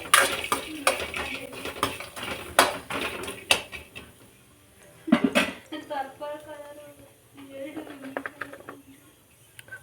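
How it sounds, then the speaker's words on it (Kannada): Mutton pieces with garlic are dry-roasted in oil as a spatula clatters and scrapes the pan in sharp irregular knocks, followed by quieter stirring under someone talking. "ನನಗೆ ಎಣ್ಣೆ ಹಾಕಿ ಡ್ರೈ ಆಗಿ ಹುರ್ಕೋತಾ ಇದ್ದೀನಿ"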